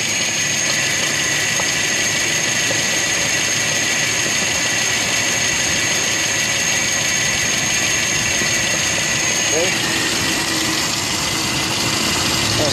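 Rebuilt Nissan Z24 engine running steadily at raised revs on a workshop stand, a loud continuous drone with a high whine on top, holding evenly throughout.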